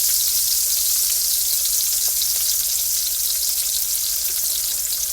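A T-bone steak sizzles loudly in a pan of herb-and-spice-infused oil, a dense, steady hiss of frying with faint pops, close and unbroken throughout.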